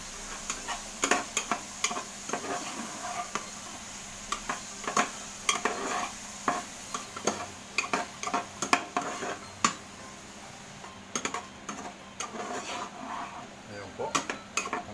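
Onion leek goes into a pan of buttered garlic shrimp and gets stirred, a spatula tapping and scraping the pan in many quick, irregular clicks over a faint, low sizzle.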